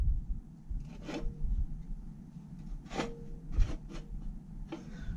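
A 1/8 inch steel intermediate friction plate from a Ford F250 4R100 transmission is spun by hand against the case, giving a few short, quiet scraping rasps close by with brief pauses between them.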